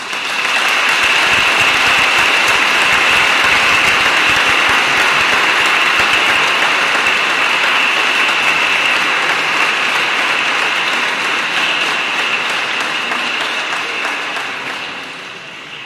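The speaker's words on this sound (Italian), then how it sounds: "possiamo fare un applauso" Sustained applause from a large church congregation during a religious service fills the space, steady and dense for about fifteen seconds before slowly thinning toward the end.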